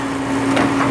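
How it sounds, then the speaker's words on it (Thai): Wood creaks and cracks under strain as it is pried, a sharp splintering burst near the middle over a steady low hum of background noise. "โอ้โอ้ได้ยินเสียงลั่นแล้ว"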